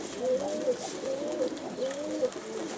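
Greek Outzidika pigeons, a pure Greek breed, coo in three repeated rolling calls, close and clear, with no voices.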